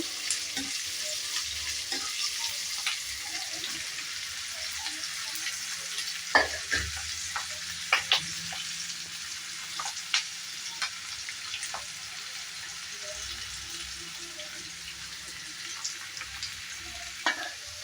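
Onions frying in a pan for dry fish curry, a steady low sizzle broken by repeated spatula scrapes and taps at irregular intervals, close and moderately loud with no talking.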